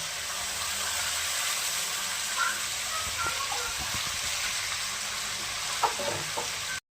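A ground paste of coriander, cumin, chilli and ginger sizzles steadily in a hot pan for a fish curry with potato, radish and bori, with a continuous close hiss and scattered light stirring clicks.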